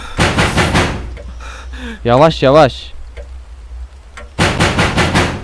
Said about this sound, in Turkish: Kapı kırıldı